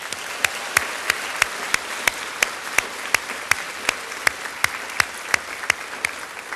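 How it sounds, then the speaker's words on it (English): Audience applause at a school ceremony in Wellesley Public Schools, a steady bed of clapping with distinct sharp individual claps standing out roughly every third of a second, fairly close and sustained without talk. "Please applaud your moms, dads, grandparents, guardians, teachers, counselors, school nurses, caregivers, and all the adults for all that they have done for you."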